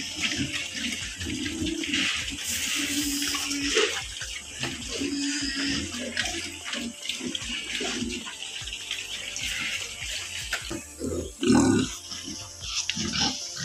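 Pigs grunting on a small provincial pig farm, repeated short low grunts at close range mixed with splashing water and occasional human voices in the background.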